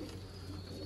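Soft, low pigeon cooing, a brief throaty murmur over a steady background hum.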